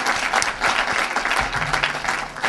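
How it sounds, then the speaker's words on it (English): A crowd applauds drummers after their performance at the first Côte d'Ivoire salon in Los Angeles, giving a dense, lively round of clapping with some low rumble underneath and no voices on top. "Let's give them a round of applause."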